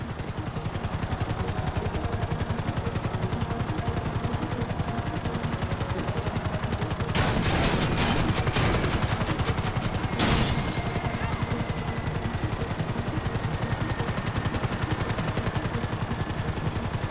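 Rapid automatic gunfire in GTA V rattles continuously as a dense clatter, with a louder burst in the middle and another sharp volley shortly after.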